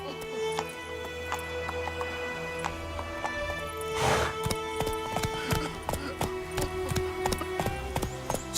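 Rhythmic hoof clip-clop of a galloping horse in The Witcher 3 game, steady beats throughout with music-like tonal background and a brief whinny-like burst midway.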